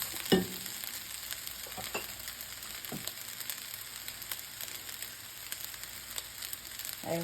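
Ham fried rice hisses and sizzles steadily in a pan, with a few scraping and clacking stirs from the utensil as it is mixed, fairly quiet and close.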